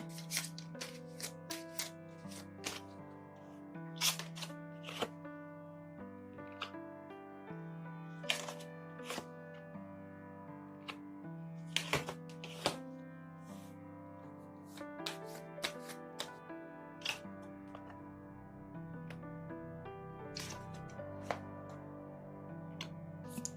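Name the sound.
tarot cards being shuffled and drawn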